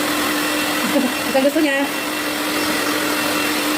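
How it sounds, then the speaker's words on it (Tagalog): A hair blower drying a wet dog gives a loud, steady whir that runs through the whole stretch, with voices talking briefly over it. "Gusto niya naka-blower."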